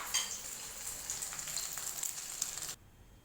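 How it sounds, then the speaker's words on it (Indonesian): Eggs fry in hot oil with a steady bright sizzle and crackle for nearly three seconds before the sound drops away abruptly, with no voices. "Sepertinya minyaknya udah panas guys. Kita masukin telurnya."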